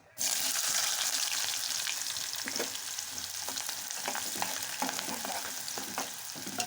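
Loud, continuous sizzling of onions frying in oil, starting abruptly and holding steady, with scraping stirs now and then.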